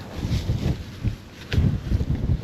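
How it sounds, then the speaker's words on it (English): Gusty outdoor wind buffets the microphone in a vegetable garden during soil sampling, low rumbling bursts swelling and easing across the moment, loudest toward the end, with no voices. "Oh, this darn wind."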